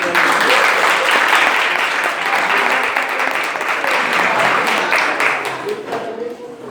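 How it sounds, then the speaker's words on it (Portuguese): A church congregation applauding during a service, loud sustained clapping from many people that continues evenly and fades at the close, with some voices mixed in beneath the clapping. "Salve de palmas, gente."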